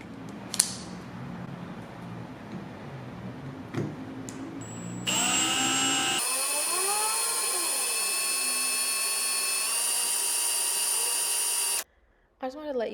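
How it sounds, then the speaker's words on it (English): An old, very dull bit drilling through an acrylic tumbler makes a steady, loud high-pitched whine for about six seconds. The whine cuts out sharply near the end and is preceded by quieter handling noises. "If you use a newer drill bit, it probably won't take you as long to drill through the acrylic."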